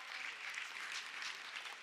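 A hall audience at an economy and development awards ceremony breaks into brief, steady applause, a short burst of dense clapping from many hands.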